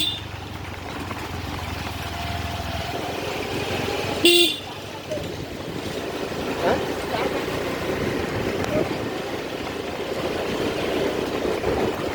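A single short honk from a Yamaha RayZR 125 hybrid on a broken, potholed road sounds once amid a steady rumble of the ride, with people talking throughout.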